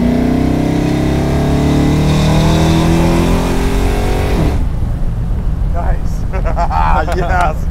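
A 600 hp 1967 Dodge Dart V8 roars loudly up close, revving in rising sweeps for several seconds before dropping away, as people talk nearby.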